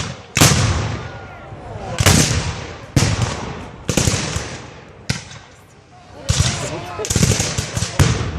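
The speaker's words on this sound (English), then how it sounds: "All right, here goes the cannon." A series of loud, sharp blasts from a cannon and mortar at a Civil War battle reenactment, about seven booms at irregular intervals with crackling tails, while people talk and react between them.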